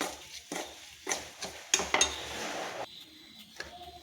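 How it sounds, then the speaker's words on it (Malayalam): A spoon stirs chili powder, pepper powder and asafoetida in a metal pan, with irregular close scrapes and clinks against the pan. "കുറച്ച് മുളക് പൊടി, കുറച്ച് കുരുമുളക് പൊടി, കായപ്പൊടി ഇത്രയായിട്ട് നന്നായിട്ട് മിക്സ് ചെയ്ത് കൊടുക്കാം"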